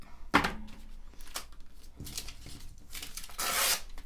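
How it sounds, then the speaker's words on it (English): Vellum paper sheets being ripped from a pad, with a sharp close tear at the start followed by several softer rustling rips and a longer, brighter tear toward the end. "shall we rip it?"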